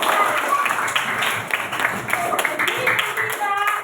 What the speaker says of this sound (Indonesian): Tepuk tangan untuk Cantika berdiri.